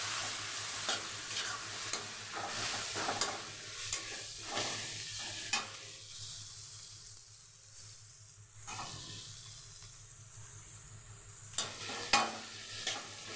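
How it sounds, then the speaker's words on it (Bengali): Ginger garlic paste and chopped tomato sauté in a pan, a continuous soft sizzle under repeated spatula strokes and scrapes, faint to moderate and close, with no talk. "এটা নিয়ে ভালো করে একটু কষিয়ে দিয়ে দেবো টমেটো কুচি"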